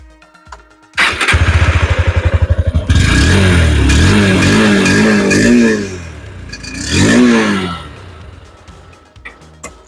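A 2025 Honda NX200 motorcycle with the same silencer as the CB200X starts up and idles with a loud, throbbing exhaust, then is revved several times in rising and falling bursts, close to the listener, with no talking.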